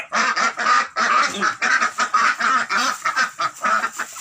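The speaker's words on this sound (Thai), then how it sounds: "เบิ่งครับเป็ดตัวนี้ครับ" Ducks, including a five-year-old laying hen, quack loudly and close by in a rapid, steady string of about fifteen calls over four seconds, with no talking.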